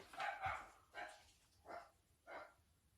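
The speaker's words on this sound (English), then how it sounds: "And despite the dog barking," A dog barks four times in loose succession, the first a doubled bark, each short and moderately distant, with quiet room noise between.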